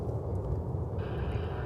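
An American Airlines Boeing 777-200ER comes in to land at Dallas/Fort Worth, a steady low rumble of engine and air noise that holds constant throughout, with a faint higher whine joining partway.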